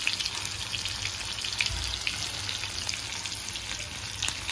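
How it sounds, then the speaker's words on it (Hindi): Masala spices frying in a pan for a chicken dish, giving a steady close hiss and crackle of sizzling oil with faint scraping, no voices. "इधर मसाला अच्छा से फ्राई हो रहा है।"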